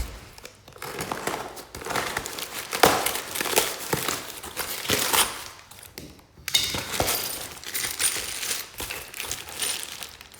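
A Ziploc bag of hardware for a Titan Fitness 1000 lb adjustable weight bench being opened and handled, with crinkling plastic and metal bolts clinking and jingling in loud close bursts.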